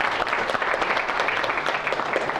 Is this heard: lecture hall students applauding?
yes